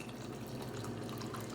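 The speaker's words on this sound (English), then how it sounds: "Add some hot water to it." Hot water is poured into a ginger hot toddy, giving a faint, continuous trickling splash of liquid that runs unbroken through the short moment.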